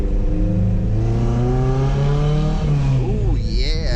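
A car engine with a newly settling clutch revs up during a takeoff, its pitch climbing steadily and loudly for about three seconds before dropping sharply as the engine note falls away.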